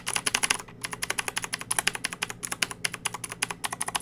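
Rapid typing on a loud mechanical computer keyboard with a tactile bump, crisp clacking keystrokes in quick bursts with a brief pause, close and clear with no talking.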